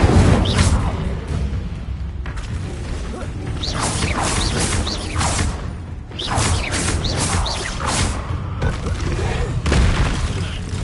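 Spell effects cast in the Hogwarts video game, including the Incendio fire spell, come as a series of booming whooshes and crashes at irregular intervals, with a voice shouting spell names between them.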